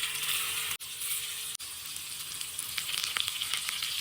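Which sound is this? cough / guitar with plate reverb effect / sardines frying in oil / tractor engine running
sardines frying in oil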